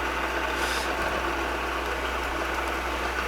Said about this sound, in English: I just installed a stubby drill. That's what I'm using to just start the hole.